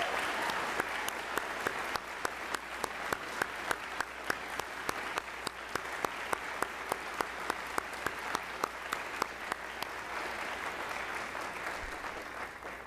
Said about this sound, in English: Let's give Dr. Ellis a hand tonight.